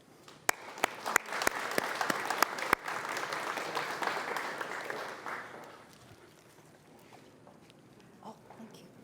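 Conference audience at a Hawaii employment summit opening ceremony welcoming a speaker with steady clapping that starts with a few loud claps, builds into a dense round, then fades after several seconds to quiet room noise.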